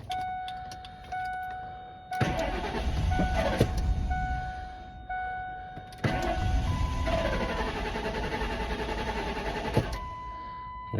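A 1998 Ford Expedition, freshly given about 4.5 gallons after running out of gas, cranks in two long starter bursts with a steady chime sounding between them, and the engine does not clearly catch.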